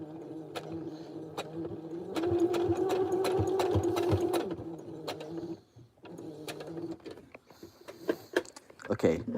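Sewing machine stitching in steady bursts, loud and close, with a few pauses between runs and short stops near the end.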